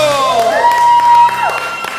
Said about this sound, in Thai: ขอเสียงปรบมือดังๆให้กับชินชินิเบล